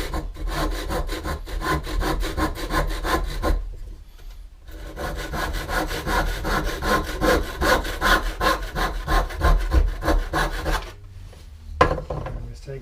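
A hand saw cuts through a wooden stool leg in rapid, rhythmic back-and-forth strokes, close and crisp, pausing briefly twice before resuming and finishing.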